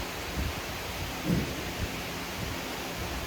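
A thunderstorm rumbles during truck camping, low thunder rolling under a steady hiss of rain, with a few deeper swells of the rumble.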